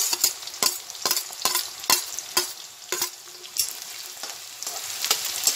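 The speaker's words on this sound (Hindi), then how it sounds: "देखिए कितना अच्छा ये फ्राई हो रहा है।" Chopped onions sizzle in hot oil in a pan for palak paneer, a steady crackling fry broken by repeated sharp scraping clicks of a spoon stirring at irregular intervals.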